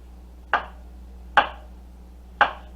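A knife chops mushrooms on a cutting board for a Salisbury steak, giving three crisp, evenly spaced strikes against a faint steady hum, close and alone.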